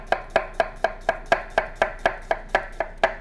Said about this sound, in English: to cut an onion, there's the root end, right, and there's the shoot end